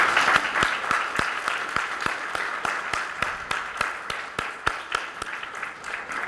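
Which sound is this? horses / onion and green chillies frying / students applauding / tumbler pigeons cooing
students applauding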